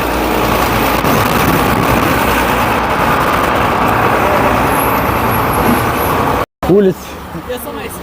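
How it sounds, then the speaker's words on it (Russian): Dense, steady traffic roar on a busy city street at a bus stop, with engines of cars, trucks and buses rumbling loudly and continuously, briefly cut off near the end before resuming. "Улица, остановка, очень все оживленное. Здесь просто вообще катастрофически очень много шума."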